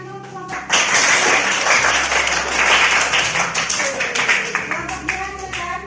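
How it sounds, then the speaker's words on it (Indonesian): A classroom group claps together for a presenting group of students, a burst of dense, close applause that starts abruptly and tapers toward the end. "Nah, tepuk tangan dulu kelompok."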